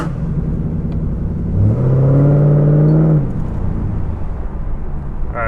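A car engine rumbles at idle, then revs up as the car pulls away from a complete stop with a slight sputter, the pitch rising briefly before settling back into a low, steady drone.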